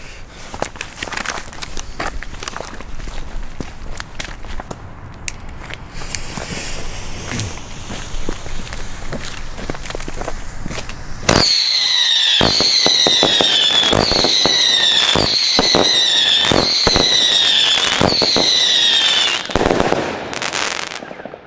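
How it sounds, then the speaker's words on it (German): A Pounding Napalm firework battery set off on a street at New Year's Eve, firing in salvos: loud, near crackling and rapid bursts that build into a dense series of whistling, booming volleys. "richtig, richtig schöne Batterie in Salven geschossen. Lasst euch überraschen und viel Spaß mit der Pounding Napalm"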